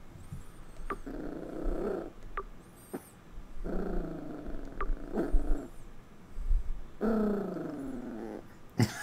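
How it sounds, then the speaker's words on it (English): Low rumbling growls from a dog come in several separate bursts, each lasting about a second, with short pauses between them, fairly close and of moderate loudness, set in a video game scene from South Park: The Stick of Truth. "What are you growling at, you little fuck nugget?"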